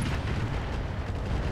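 A deep, rumbling explosion in the BattleTech mod Roguetech: a sustained low boom that roars steadily and loudly throughout, with no voices over it.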